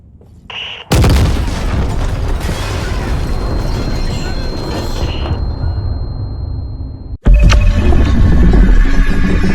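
A bomb goes off in the war shooter Six Days in Fallujah, a sudden loud blast that turns into a long, heavy rumble. A second hard explosion cuts in near the end, with no talk over either.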